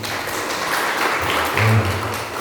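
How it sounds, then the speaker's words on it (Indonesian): The congregation at a Sunday worship service at GKI Karangetang church claps for the musicians. The applause is a short, fairly loud burst of continuous clapping that fills the room for about two seconds. "tepuk tangan untuk pemain musik ini"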